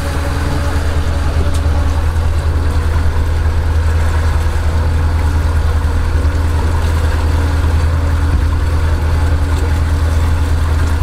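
A Nissan JoyFisher 23EX II boat's engine idles loudly and steadily during docking at a pier, a deep constant low rumble with no talk over it.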